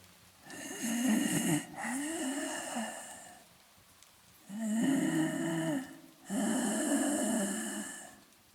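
Slow, wet, heavy breaths rasp in long drawn cycles with short silences between, close and thick like snoring, in a quiet setting outside a door.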